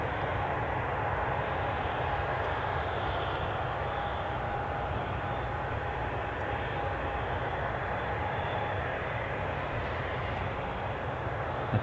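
A Ryanair airliner, likely on the Faro flight, passes at Newcastle International Airport, a steady broad engine roar holding at even strength throughout with a faint thin tone running beneath it.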